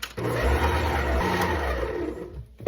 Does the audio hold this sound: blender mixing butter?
yes